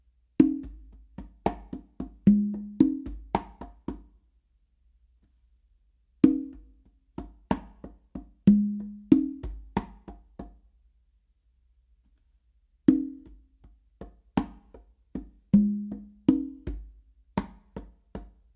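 Two congas play a full modern funk pattern, with repeated phrases of slaps and open and muted tones separated by long silent gaps, sounding close and crisp with no voices.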